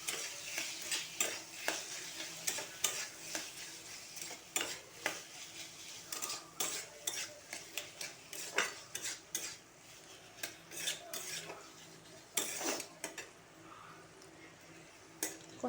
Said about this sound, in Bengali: মশলার সাথে যদি ভাজি গেঁড়িটা তাহলে নরম থাকবে। মশলার সাথে সুন্দর করে কষে নেব।